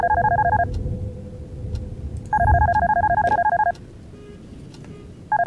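A cell phone rings in the Darkness Within video game, two loud electronic trilling bursts separated by a pause, a third starting at the end, over a low background hum.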